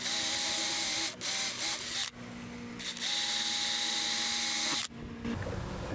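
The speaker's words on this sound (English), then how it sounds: "we're going to drill the remaining 2 screw holes" A power drill whines in several bursts, drilling screw holes while installing a shutter hinge, starting and stopping with short pauses between runs, close and loud.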